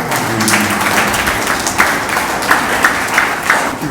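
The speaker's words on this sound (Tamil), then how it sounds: "நல்ல பாராட்டு கொடுக்கலாம்." A crowd applauds an honoured guest at a Vidya Vyasa TNPSC Academy first-anniversary success ceremony: steady, dense clapping from a hall audience lasting throughout at an even moderate level, with faint voices in the background.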